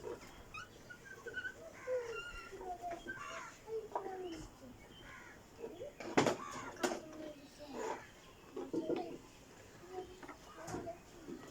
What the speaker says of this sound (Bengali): এইটা হচ্ছে টিয়া পাখি